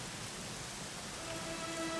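Steady rain falls in the Dragon Quest XI game world, a continuous soft hiss of drops on surfaces with faint tonal music drifting underneath.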